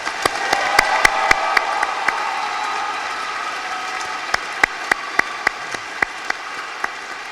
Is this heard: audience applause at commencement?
yes